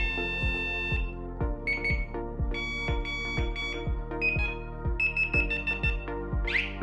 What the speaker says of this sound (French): Choisissez parmi 6 tonalités d'alarme différentes et un mode silencieux